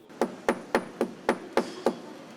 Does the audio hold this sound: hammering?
yes